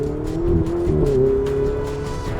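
Ferrari 488 Spider engine heard from inside the cabin with the roof up, a loud, smooth droning hum that rises slightly in pitch as it revs, steady throughout with no talk.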